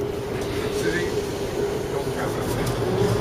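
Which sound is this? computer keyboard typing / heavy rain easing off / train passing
train passing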